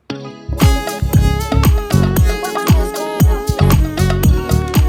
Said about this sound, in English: All my guitar sounds have this chorus on it.